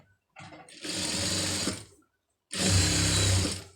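An electric sewing machine stitches fabric in two close bursts of steady, fast whirring, a short pause between them, with no talking.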